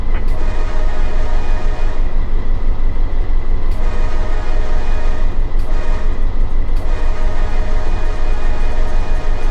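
A CSX freight train led by unit 9037 rolls past in the Run 8 train simulator, a loud, steady rumble of engines and rail cars continuing throughout with a few brief sharp clicks.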